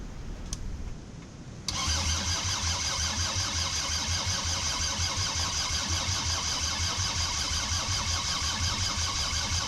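A Mercedes T1 diesel engine with its glow plugs disconnected cranks over fast and steady after a brief quiet start, a loud, continuous rhythmic churning that holds to the end.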